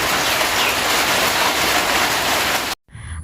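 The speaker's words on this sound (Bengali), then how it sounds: "সেই দেখো বৃষ্টি হচ্ছে" Heavy monsoon rain pours steadily in a close, loud, dense hiss of drops striking surfaces, continuing without a break until it cuts off abruptly near the end.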